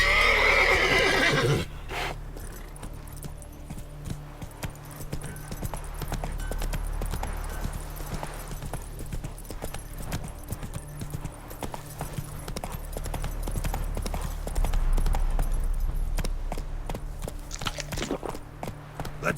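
Roach, Geralt's horse in The Witcher 3, neighs loudly at the start and then trots with steady clip-clop hoofbeats over a low ambient bed for the rest of the stretch.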